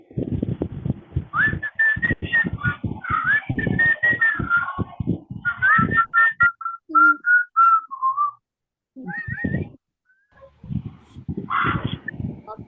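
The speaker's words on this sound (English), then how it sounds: "I want all of you to sing and whistle at the same time." A group in a training session sings and whistles at the same time. Wavering whistled tones ride over voiced humming in irregular bursts, close and fairly loud, with short pauses near the end.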